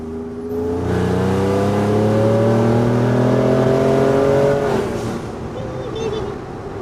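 A replica Shelby Raptor pickup truck revs and drives on a street, its engine note climbing steadily and loudly before dropping away as it eases off.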